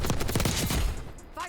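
Rapid gunfire in Black Ops 6, a dense burst of shots rattling in quick succession for about a second before cutting off.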